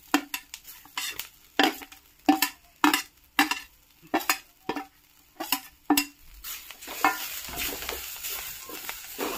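Sesame seeds, spice masala and mortar-pounded green chillies fry in a pan, with a run of sharp scraping stir strokes against the metal giving way to a steady sizzle near the end.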